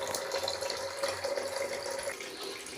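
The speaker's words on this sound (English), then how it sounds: "wait until the water is about to reach the top of the bucket" Water from a Grundfos twin impeller regenerative booster pump at 3.0 bar pours steadily into a bucket, a constant hissing splash with a slight ringing tone, close and uninterrupted.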